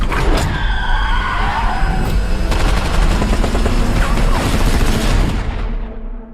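Loud action-scene gunfire with bursts of rapid shots over roaring car engines and tire skids, fading out at the end.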